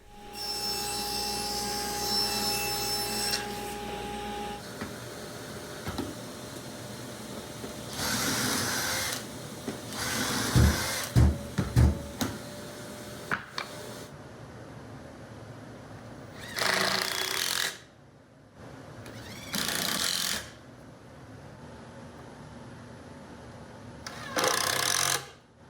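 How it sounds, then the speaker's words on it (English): Pocket screws are driven into wooden cabinet box joints with a drill, heard as several separate whirring bursts with sharp clicks and knocks between them, close and fairly loud with no talking. "I'm just assembling my cabinet boxes with pocket screws"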